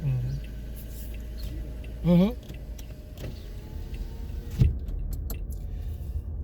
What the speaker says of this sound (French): c'est mon voisin là, sa voiture là.